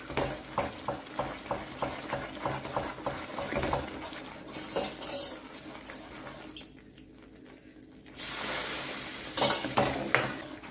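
Hot oil bubbling and sizzling in gram flour batter for Mysore pak, with rhythmic stirring scrapes against the pan, a brief quieter sizzle, then louder frying and clinks near the end.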